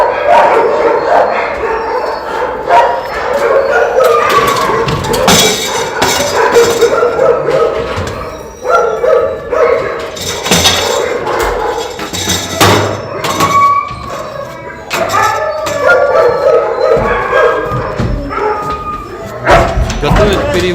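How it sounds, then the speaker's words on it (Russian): A frightened dog at a temporary dog shelter in Yakutsk barks and yelps in sharp repeated bursts, close and loud, with clattering and people talking in the background. "Собака напугана"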